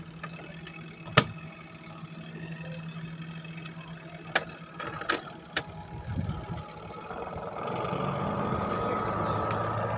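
A washing machine's spin-dryer motor runs with a steady low hum that builds toward the end, with a few sharp clicks from the lid contact switch along the way.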